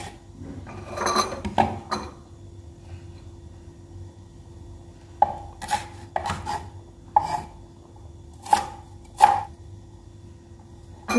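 Shallots and chilies being chopped on a board for an omelette: short bursts of knife strokes, some quick and clustered, others single, with quiet pauses between them, close and clear.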